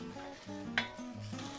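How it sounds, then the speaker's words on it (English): Onions and potatoes sizzle in a pot for chicken soup, a soft steady frying hiss with light stirring and a brief clink of utensil against the pot, faint and close, with no talk. "Ah, that's music to my ears, it's sizzling now."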